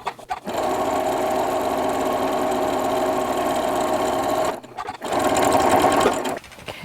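Sewing machine stitching tucks into fabric, running steadily and close for about four seconds, pausing briefly, then whirring again in a second short run.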